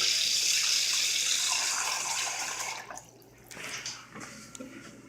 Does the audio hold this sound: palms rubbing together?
no